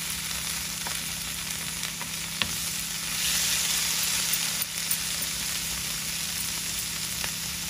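Vegetable bhaji fries in a pan with a steady, hissing sizzle, broken by a few sharp clicks of stirring and a brief swell of louder crackling midway, with no voices.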